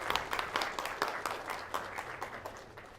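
Audience applause welcoming a professor to the stage for an afternoon lecture, a steady run of many hands clapping at moderate distance that gradually thins and fades over a few seconds.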